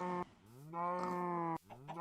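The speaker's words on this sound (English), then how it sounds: "And at some point they start playing sounds, idle sounds." Cow mobs in a C++ Minecraft clone game play idle mooing: two drawn-out, low, lowing calls with a short break between them, clear and fairly quiet, with no other sound.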